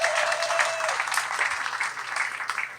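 Indoor evening event audience applauding the organizers, a crowd clapping densely and steadily for a few seconds, fairly loud with a faint tone at first.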